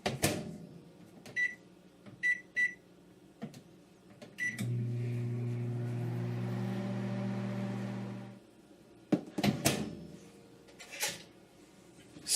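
A microwave oven hums steadily for about four seconds while macaroni cooks in a Rapid Mac Cooker, framed by button beeps and door clicks before and after.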